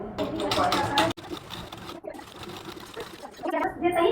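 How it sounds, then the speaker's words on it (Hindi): A sewing machine stitches along the lining of a blouse in a steady, close whirring run, pausing briefly before starting up again. "अब इसके ऊपर सिलाई लगा दीजिए, अस्तर के ऊपर"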